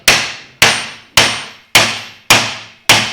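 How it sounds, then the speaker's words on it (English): Six sharp hammer strikes on brake caliper pistons, evenly spaced about half a second apart, each a loud close metallic clang that rings and decays before the next, while fitting Chevy parts to a Toyota Tacoma's brakes. "We can hit her with a hammer and see what happens."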